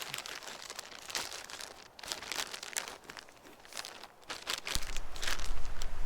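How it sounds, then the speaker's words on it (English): A plastic bag crinkles and rustles loudly and close by as a hammock is unpacked, with irregular crunchy bursts of handling noise. "So the first step is unpacking. It came with this nice plastic bag."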